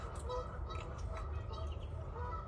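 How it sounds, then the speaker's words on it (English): Wild geese honking outdoors, repeated overlapping calls heard at moderate distance over a steady low rumble of background noise. "These geese are going crazy."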